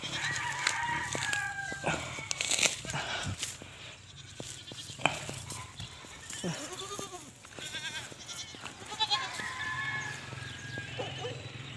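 Goats bleating on a farm while a mother goat is prepared, several wavering calls over a busy barnyard with roosters crowing and hens clucking, moderately close.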